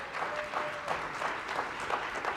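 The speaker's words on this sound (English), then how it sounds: "So a huge round of applause for Tom as well." Audience applause at a disability rights event, a steady wash of clapping from a room of people, fairly faint and continuous throughout.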